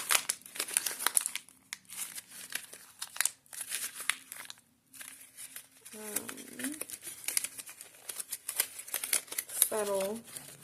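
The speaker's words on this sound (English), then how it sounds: "I'm gonna start by crumpling it a bit." A printed photograph is crumpled by hand, giving a few bursts of crinkling paper close to the mic, while a person talks throughout.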